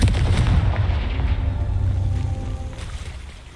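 A Confringo fire-blast spell explodes in Hogwarts Legacy, a loud, deep booming blast with a rumbling tail that slowly fades over a few seconds.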